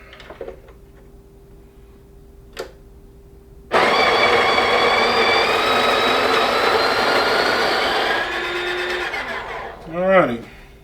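A Breville Barista Pro espresso machine's built-in grinder grinds coffee beans, a loud steady whirring buzz running several seconds alone, then dropping in pitch as it winds down, followed by a short rising mechanical squeak.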